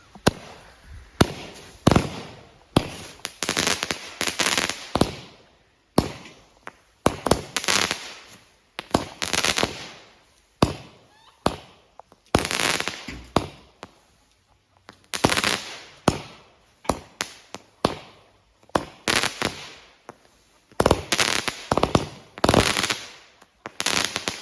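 A Gas Explosion 36-shot aerial firework assortment goes off in a long run of loud, rapid bursts and crackling pops, each shot followed by a short gap, nearby and with no talking.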